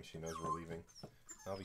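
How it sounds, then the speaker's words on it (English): A pet dog whines in high, drawn-out whimpers, mixed in with and partly under someone talking nearby indoors. "excuse my dog's whining"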